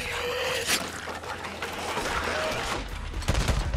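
Automatic gunfire crackles in a zombie-survival video game, dense bursts running throughout with a heavier volley near the end, under a busy mix of game effects.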